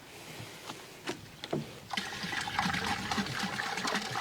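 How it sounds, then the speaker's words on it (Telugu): Desi cow urine, about ten litres, is poured into a drum for jeevamrutham. Faint splashes and drips come first, then a continuous close-up gush of liquid that runs to the end. "తర్వాత దేశీ ఆవు మూత్రం 10 లీటర్లు కూడా పోయడం జరుగుతుందండి."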